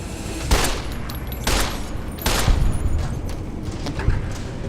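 A 10mm pistol fires in Fallout: New Vegas, with several loud, sharp shots spaced about a second apart over a dense, steady bed of game noise.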